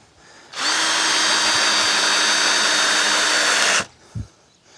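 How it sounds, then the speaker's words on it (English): A power drill driving screws into a wooden chicken run frame, one loud steady whine lasting about three seconds, close up, then stopping with a short knock afterward. "So I'm just getting a few more screws put in."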